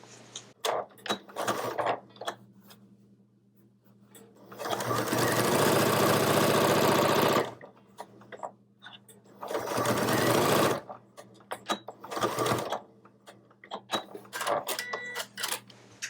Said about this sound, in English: go ahead and take that to machine and stitch an 1/8 of an inch seam allowance